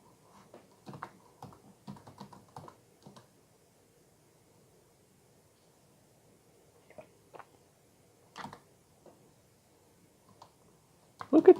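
Clusters of quick keystrokes on a computer keyboard come in bursts separated by pauses, close and crisp, ending in a louder flurry of key presses.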